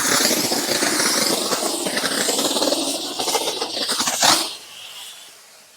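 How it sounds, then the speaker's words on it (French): A wet steam cleaner sprays onto a car, a loud broad hissing rush that runs steadily for about four seconds, then cuts off abruptly and leaves a quieter hiss fading away. "Vapeur humide."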